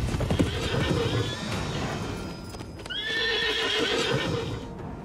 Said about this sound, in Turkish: Atlar!